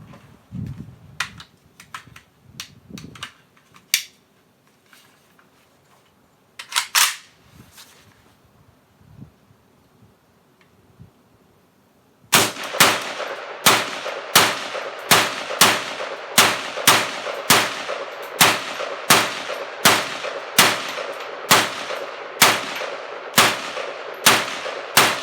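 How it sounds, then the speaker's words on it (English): A Lee Armory Classic AK rifle fires its first rounds. Quiet scattered clicks and knocks come first, then a long, evenly paced string of sharp, loud shots at roughly two per second. "This is my new Lee Armory Classic AK, and this will be the first 20 rounds I ever shoot through it"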